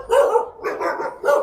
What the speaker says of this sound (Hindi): भाई जहाँ जाता हूँ कुत्ते भौंकने लग जाते हैं।